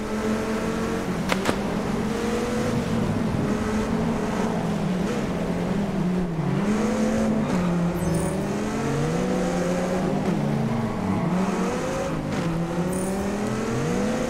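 A race car's engine revs and shifts repeatedly in the racing video game Test Drive Unlimited Solar Crown, loud and close, with rising pitches that drop at each gear change.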